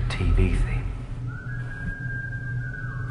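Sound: person whistling a tune

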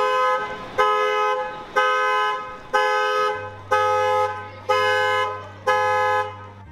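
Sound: car alarm going off in the street

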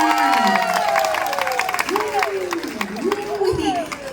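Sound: concert audience applauding

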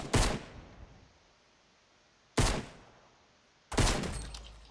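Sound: gunshot in the video game Fortnite

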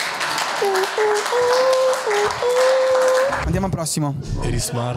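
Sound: applause, clapping hands

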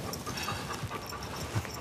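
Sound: dog panting

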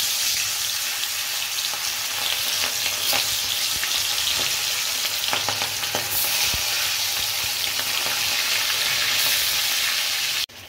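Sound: small tangra fish frying in hot oil in a wok

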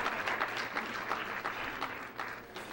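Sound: applause and cheering for the bridal party

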